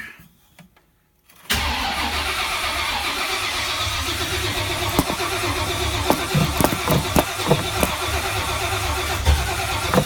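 An old carbureted Jeep CJ5 engine cranks and catches after a brief quiet moment, then runs roughly and loudly close by, sputtering and popping unevenly.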